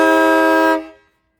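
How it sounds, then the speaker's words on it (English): Farben dual air horns fitted to a 2018 Honda Fit give one loud, close, harmonic blast lasting under a second, then fade out quickly with no voices. "Both of these Farben air horns, when I got them both, I wanted a good harmonic sound"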